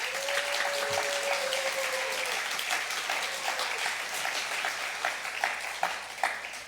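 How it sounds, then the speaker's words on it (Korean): An audience at a university chapel service applauds in welcome of a visiting pastor, with dense steady clapping filling the room, loud and sustained from start to finish. "여러분 환영의 박수 크게 한번 하겠습니다"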